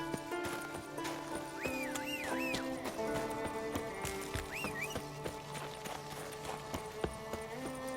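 A horse in The Witcher 3 trots along with a steady, close clip-clop of hooves, with a short whinny near the start, under background music.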